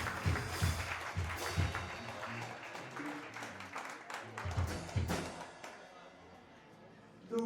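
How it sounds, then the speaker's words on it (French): A church congregation applauds in a steady, fairly loud wash of clapping that fades toward the end, with voices and a few thumps mixed in. "Et est-ce qu'on peut applaudir encore maintenant?"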